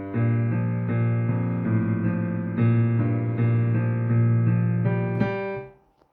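Solo piano playing a song, steady sustained chords with clear harmonics changing at a relaxed pace, close and fairly loud, ringing out and fading at the end, no talking.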